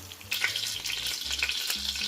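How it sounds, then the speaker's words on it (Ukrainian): Steady sizzling and spitting of homemade meat patties frying in two pans, close and continuous, with occasional low hum underneath. "Смажимо котлетки на двох сковорідках."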